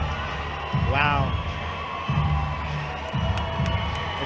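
A crowd at a fight night yelling and cheering, with a rising shout and bursts of noisy roaring over a low, constant arena rumble.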